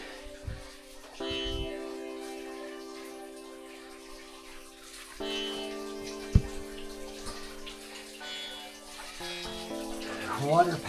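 Water from a small waterfall in a cave passage trickles and splashes faintly, sitting low beneath louder sustained background music tones.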